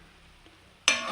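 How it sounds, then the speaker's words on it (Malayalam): A carrot and beetroot stir-fry is stirred in a pan, with near silence broken by a sudden loud, close scrape and sizzle in the final moments. "ക്യാരറ്റും ബീട്രൂട്ടും മെഴുക്ക് വരട്ടി റെഡി ആയിട്ട് കുറച്ചും കൂടി ആവാനുണ്ട്. ഒന്ന് നന്നായി മിക്സ് ചെയ്ത് കൊടുക്കാം."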